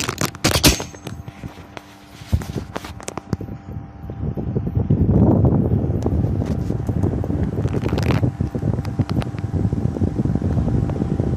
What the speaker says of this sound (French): Voilà, je vais mettre un ventilateur.